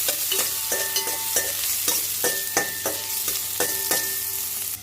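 Sliced ginger with red and green chillies frying in a hot pan, a steady sizzle broken by repeated scraping strokes of a spatula, fairly close and loud.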